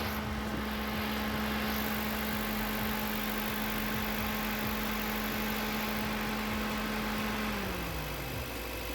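An overheating car's electric radiator cooling fan whirs steadily over the idling engine, a constant hum that drops in pitch near the end as the fan winds down.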